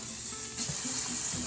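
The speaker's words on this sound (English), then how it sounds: "Now I'm going to go ahead and add some sun-dried tomato. Saute that up a bit." Garlic and sun-dried tomato sautéing in a pan, a steady close sizzle with soft bursts of stirring near the end, no talking.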